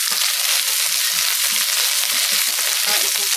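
An ingredient hits hot oil with a loud, continuous hiss and scattered crackling pops as it splatters, close and without any voices.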